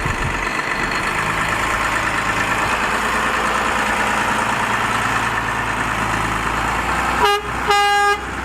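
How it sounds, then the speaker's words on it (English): Horn of a Volvo A30G articulated haul truck working in a feedlot corral, cleaning out pens: a deep diesel engine idles and rumbles for several seconds, then a loud horn sounds twice in quick succession, close by. "Told you he'd honk."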